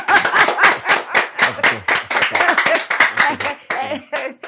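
Rapid group clapping fills a scene in a Yoruba film, with dense overlapping hand claps at a steady, lively pace, close and loud throughout, and a few voices mixed in underneath.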